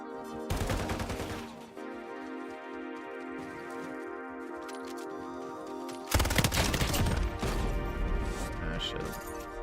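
Gunfire in the video game Modern Warfare 4 comes as a dense rattling burst at the start. A louder crashing barrage follows at about six seconds, over tonal game sound, with some talk.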